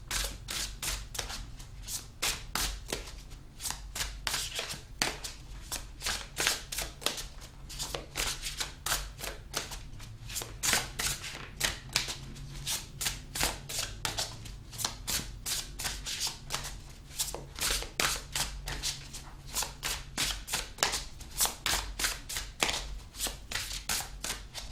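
Tarot cards being shuffled continuously, a dense run of quick riffling and flicking strokes close up, steady and fairly quiet throughout with no voices.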